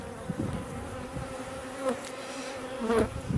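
Honeybees buzzing on a hive frame during an inspection, a steady low drone with brief louder swells as bees pass close, around 7000 bees on a single frame.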